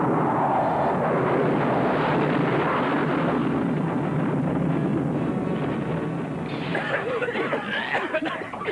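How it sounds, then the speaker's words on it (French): Aircraft crash landing in an animated series, a loud sustained roar and rumble with crashing bursts, the texture shifting near the end as the impact noise continues. "on va atterrir en catastrophe"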